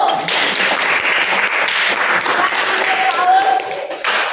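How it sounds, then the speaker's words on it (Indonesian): A classroom of students claps for a presenting group, the sound close and busy. Voices mingle with the applause throughout. "Kita beri tepuk tangan untuk kelompok 1."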